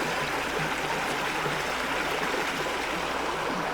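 A creek flows behind a barn on rural Alabama land, its steady, close rushing and trickling water continuous throughout, with no voices.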